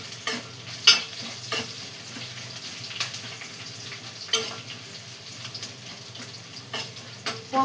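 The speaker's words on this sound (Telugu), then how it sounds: "పోపు వేసుకుందాం." Spices for tempering dal sizzle and crackle in hot oil in a steel pan, with sharp intermittent pops and spatters over a soft steady frying hiss, close and moderately loud.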